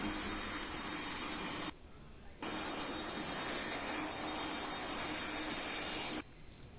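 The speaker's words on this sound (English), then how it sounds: "Is Ryanair meant to be landing 25 right?" A Ryanair airliner lands on runway 25 at Greater Rockford, a continuous distant jet engine roar holding steady with two brief dropouts, faint and heard from afar, with no talk.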